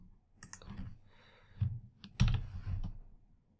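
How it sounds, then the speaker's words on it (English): Fingers tap keys on a computer keyboard in short irregular bursts of clicks, close and fairly soft, with brief pauses between flurries and no voices. "I can just start typing"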